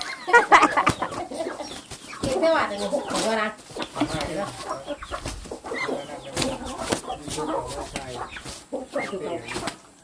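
Chickens cluck and squawk close by in a farmyard, with repeated bursts of fowl calls mixed with people talking over them.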